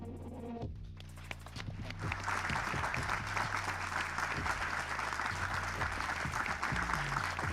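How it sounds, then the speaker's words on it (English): Audience applause at the FIBA U19 Basketball World Cup 2025 draw ceremony, rising after a brief musical tone and settling into steady, even clapping from a large room that carries on to the end. "I would like to end this with a big round of applause"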